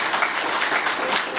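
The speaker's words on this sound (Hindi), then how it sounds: "आप अब इनके लिए भी ताली बजाएं।" Applause from an audience at a political gathering, dense and steady throughout, loud and close, with no pause in the clapping.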